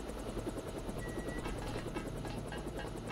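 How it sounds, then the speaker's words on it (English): A helicopter rotor thumps steadily in the game Deus Ex, a dense, continuous chopping drone with engine whine filling the whole clip, close and loud, with no voices over it. "We gotta get the chopper out and then free ourselves."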